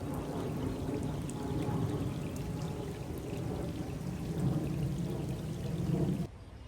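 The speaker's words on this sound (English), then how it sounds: "It's super vibey outside because it's really rainy." Steady rain falling outside during a storm: a dense, even hiss and patter that keeps going without a break, heard alone with no voices, then it drops away abruptly at the very end.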